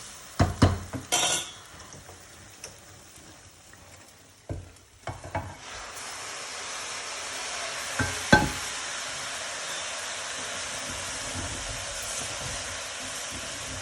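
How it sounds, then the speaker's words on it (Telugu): Prawns go into frying biryani rice with a few loud clanks and scrapes from the pan and spoon, then a steady, close sizzle with occasional stirring knocks. "ఇది ఫ్రై అయిపోయింది బిర్యానీ రైస్. ఇప్పుడు మనం రొయ్యలు యాడ్ చేసేసుకుంటాం."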